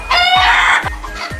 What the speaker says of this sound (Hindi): आप देख सकते हो यहाँ पे सारे जो मुर्गी और मुर्गे हैं